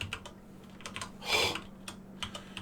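Computer keyboard typing at a desk: quick, close key clicks in short uneven bursts, with a louder rushing smear partway through.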